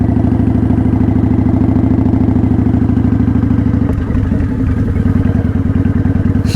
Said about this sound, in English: And I can ride in 10 miles an hour if I just keep giving it enough gas.